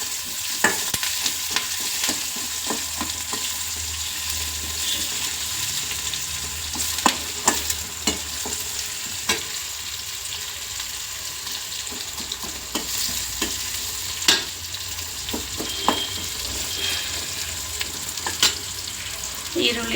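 Green chillies frying in a pan for upma, with a steady sizzle throughout and a spatula scraping and tapping at irregular moments, close by and fairly quiet, with no talking.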